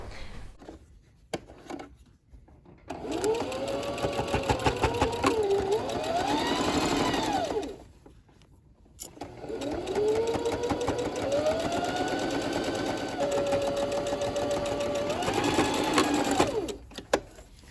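A sewing machine runs stitches through a quilted coat lining in two long steady bursts, each with a whirring motor whine, separated by a short pause.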